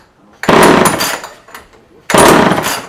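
A Homelite chainsaw is pulled over by its recoil starter, with two loud, rasping pulls close by, and the engine gives a brief pop without catching.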